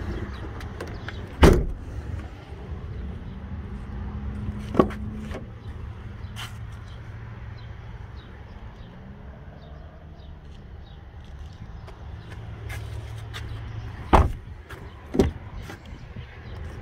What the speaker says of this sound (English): that seat has to go forward